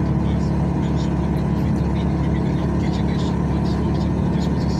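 Heavy truck engine labouring uphill in ninth gear at about 35 km/h and 2,100–2,200 rpm on the rough, sunken asphalt of the BR 116 through the Serra de Jaguaquara, a steady loud low drone filling the cab with road rumble.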